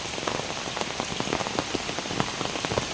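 Steady rain falls on surfaces outdoors, with soft continuous patter and scattered sharper drops, fairly quiet and without speech.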